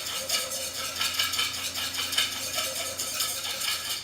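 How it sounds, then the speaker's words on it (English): Metal whisk beating melted butter into egg yolks for hollandaise sauce, a steady rapid clatter and scrape against the bowl that runs without a break, close and fairly loud with no talking. "So lots of whisking involved with making your Hollandaise sauce."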